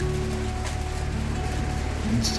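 Rain falling at a village house, a steady dense hiss of drops on surfaces with a faint low hum underneath, continuous and even, with no talking.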